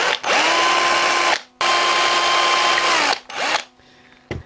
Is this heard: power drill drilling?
yes